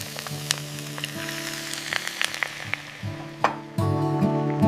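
Pork belly hits a hot frying pan with aromatics, crackling and popping in scattered bursts over a low background hum, then a louder steady sizzle takes over near the end.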